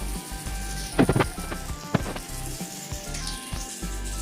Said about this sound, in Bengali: এবার আমি এটাকে তেলের মধ্যে ছেড়ে দেবো